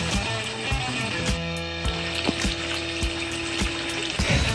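Water pouring steadily into a goldfish pond bio filter, a continuous close splashing trickle with a faint pump hum and occasional sharper drips.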